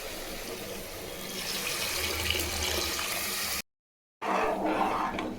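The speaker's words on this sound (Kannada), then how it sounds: "ಇವಾಗ ಈ ರೀತಿ ಫ್ರೈ ಆದಮೇಲೆ ಇದಕ್ಕೆ ನೀರು ಸೇರಿಸ್ಕೊಳ್ಳೋಣ." Water pours steadily into a hot frying pan of fried vangibath masala with a continuous hissing gush, close and fairly loud, briefly cut off before resuming.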